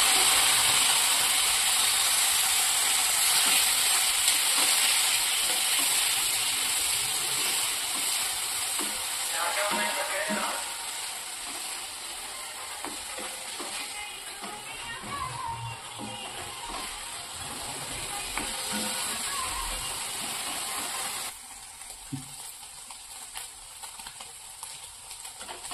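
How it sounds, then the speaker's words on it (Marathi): Small cut pieces of paneer fry in a pan toward golden, a steady sizzle running throughout with occasional stirring scrapes and clinks, quieter toward the end. "पाव किलो घेतलेले पनीरचे पीसेस बारीक बारीक आकारात आपण कट करून घेतलेले आहेत, ते आपण सोनेरी कलर होईपर्यंत तळून घेऊया"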